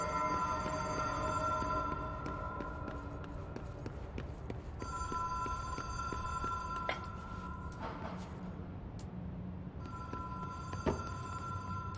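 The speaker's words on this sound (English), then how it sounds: "Okay, I hear the ringing phone." An old telephone rings in the hotel setting of the video game Control, with a sustained ringing pattern that repeats in bursts under a steady low ambient rumble and game music.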